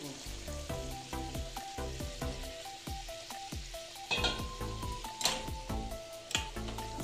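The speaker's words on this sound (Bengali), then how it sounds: "এখানে একটু জল অ্যাড করব।" Jackfruit curry sizzles and fries in a pan as water is added, steady crackling sizzle with occasional stirring, over a background of rhythmic music.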